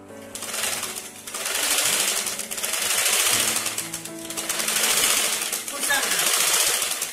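A sewing machine stitching a chudidar in a tailoring class, running in several bursts of rapid mechanical clatter that rise and fall in waves, with brief pauses between runs.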